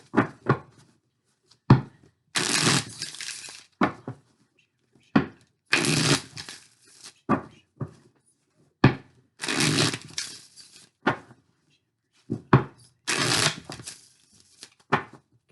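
A tarot card deck being shuffled, repeated papery riffles and flutters with sharp card taps between them, close and clear, with no talk.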